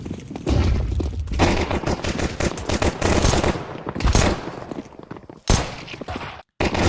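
Counter-Strike gunfire at a competitive match, rapid bursts of automatic rifle shots and single cracks crowding over several seconds, loud and dense, with brief pauses and a sudden cut near the end.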